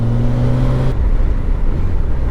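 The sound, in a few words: motorcycle pulling away after braking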